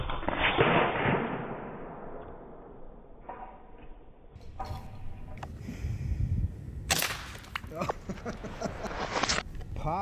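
A Norica .25 Omnia ZRS break-barrel air rifle with wood stock fires a few sharp pops mixed with handling clatter and mechanical clicks, with a person talking in between.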